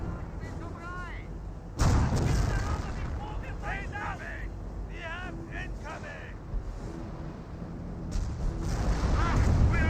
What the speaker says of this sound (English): here comes Calliope barrage